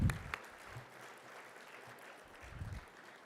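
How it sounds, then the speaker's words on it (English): A gala audience claps steadily in a soft, diffuse wash of applause, fairly distant and sustained throughout. "Let's give everyone an amazing round of applause."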